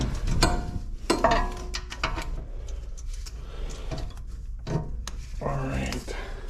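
Bolts on a Volkswagen are tightened by hand with a ratchet, giving short bursts of clicking pawl ratcheting and metallic knocks at close range, with a voice speaking intermittently in between.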